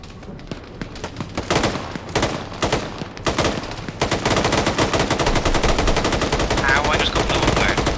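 Gunfire in a video game military operation: a few separated bursts of rapid shots, then sustained, dense automatic fire that runs loud and continuous to the end.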